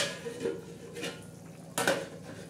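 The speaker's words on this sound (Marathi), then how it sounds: "आता आपण मंद गॅस करून आता त्याच्यावरही झाकण ठेवणार आहोत" A metal lid is set on a pot of mutton cooking over low gas, with a few light clinks and one sharper metallic clatter near the end, close and faint against a quiet kitchen background.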